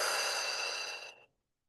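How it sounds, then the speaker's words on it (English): A long, slow exhale through the mouth during a guided breathing exercise, close and steady for over a second before stopping abruptly into silence. "let's breathe in through our nose and out through our mouth"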